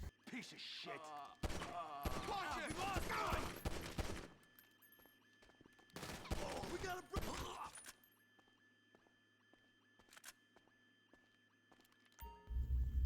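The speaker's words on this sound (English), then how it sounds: "I had to come in and try and take these guys out pretty quickly with a handgun" Handgun fire in a GTA Online shootout comes as dense bursts of rapid shots, loud for a few seconds, then a pause, then another loud volley, with scattered fainter game sounds between and a thump at the end.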